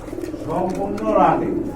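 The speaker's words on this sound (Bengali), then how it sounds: "সুন্দর চমৎকার এক জোড়া কবুতর কিন্তু আকাশি টাইপের আর অনেক বড় সাইজের কবুতর" A pair of large sky-blue pigeons coo in low, rolling calls close by, while someone talks over them in a pigeon market.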